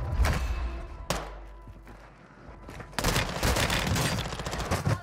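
BAS-P gun firing in a video game: a burst of rapid shots, a single sharp crack, a quieter pause, then a long sustained volley of gunfire, loud and close.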